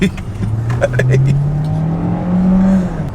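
A turbocharged petrol 2017 Hyundai Elantra accelerating, heard from inside the cabin as a steady engine hum that rises in pitch and then eases off, with people talking over it.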